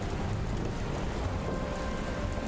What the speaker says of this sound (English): Good timing for the rain.